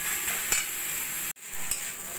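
Vegetables stirred in a pan over a low flame for a tea-time snack, a soft, steady sizzle with a few light scrapes of a spatula and one brief dropout midway, close and quiet.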